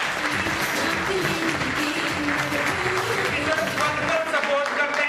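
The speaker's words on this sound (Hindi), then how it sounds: "एक बार जबरदस्त तालियां जिन्होंने हम दोनों की जिंदगी बदली, मिस्टर महिपाल सिंह जी के लिए सर।" Audience applause at a network marketing seminar, loud and continuous for about five seconds, mixed with cheering voices and some overlapping chatter from the crowd.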